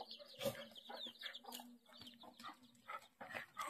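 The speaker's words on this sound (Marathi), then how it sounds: "कोंबडी." Chickens cluck in short, uneven bursts on a village lane, faint and a little distant, with soft background noise and no talking.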